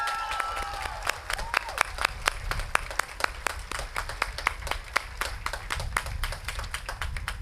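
Graduation ceremony applause for the graduates, a modest crowd clapping with distinct, sharp individual claps standing out, steady throughout.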